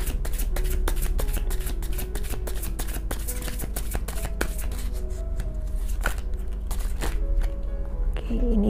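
Tarot cards are shuffled and flipped in a steady run of crisp riffling snaps and slaps, close and loud throughout, with a brief soft voice near the end.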